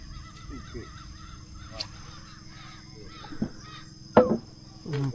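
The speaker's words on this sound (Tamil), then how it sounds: "பறவைகள்லாம் கத்துது." Birds calling in the Brazilian Amazon, scattered loud squawks and caws in short bursts over a quiet steady background hum, with a harsh nearby cry standing out near the end.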